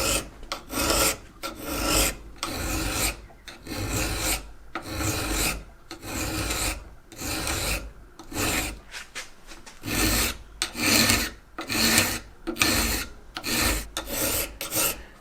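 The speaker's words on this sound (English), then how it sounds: "So I'm going to keep filing until that's completely flat and completely shiny." A metal file rasps along the sheared spine of a knife blade, squaring it flat, in steady repeated strokes of close, loud scraping with brief pauses between passes.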